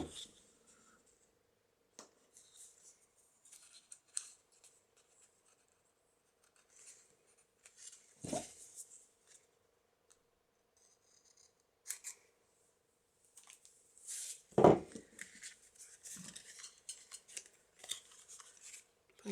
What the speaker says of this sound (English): cut corners off.